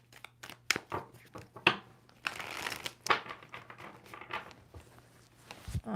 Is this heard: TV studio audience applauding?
no